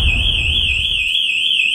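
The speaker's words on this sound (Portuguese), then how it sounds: "Apaga o alarme aí." A house alarm blares continuously, a loud piercing warbling electronic tone sweeping up and down steadily over a low rumble, with no voices.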